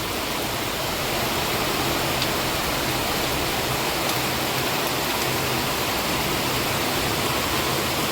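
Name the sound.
heavy rain and floodwater rushing down a street in Junagadh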